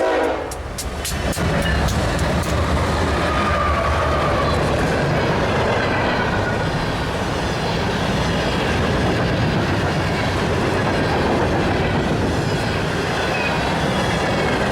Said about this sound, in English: We got a GEVO coming our way on an eastbound grain empty here at Tuscor.